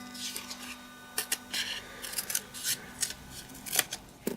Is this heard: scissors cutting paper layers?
yes